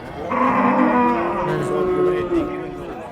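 A dairy cow gives one long, loud, drawn-out moo close by at a livestock market, with crowd noise underneath.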